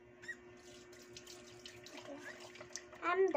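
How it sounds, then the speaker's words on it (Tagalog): Tap water runs quietly into a sink at home during a night washing routine. Voices talk over it, and the splashing grows louder near the end. "Ay, bilis na yung tubig."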